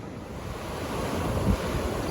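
Steady rushing water of the high, muddy Cossatot River at Cossatot Falls near Wickes, Arkansas, roars close by, a continuous broadband wash with a faint thump midway, no voices.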